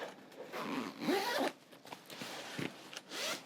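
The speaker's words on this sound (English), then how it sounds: "So let's zip that up." A zipper is drawn shut on a Nayo Smart Herman H3 6L sling bag, giving a close, quiet rasp in a few short pulls with brief pauses between.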